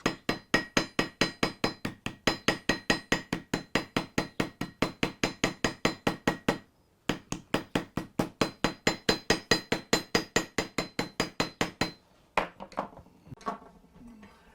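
Steady metallic hammer blows riveting a tin-filled nail head into wood, struck in fast regular bursts of ringing clinks with a brief pause midway, ending in looser scraping and tapping.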